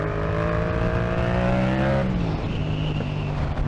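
Yamaha MT-07 motorcycle engine pulling hard through a wheelie, a loud rising rev that cuts off sharply halfway, then a lower rumble and rushing wind noise as it settles.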